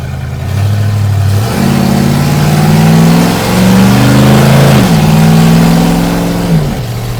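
A 1962 Ford Falcon gasser tribute car revs hard and loud up close, its engine note stepping up and down through several throttle blips with a brief dip midway before climbing again.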